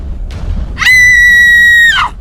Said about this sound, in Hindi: अचानक बाथरूम से एक खौफनाक चीख की आवाज सुनाई दी